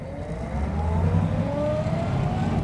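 A 1934 Ford cabriolet with an 85 horsepower 221 flathead V8 pulls away under acceleration on a brisk morning, its low engine drone rising steadily in pitch as it gathers speed, heard close and alone without talk.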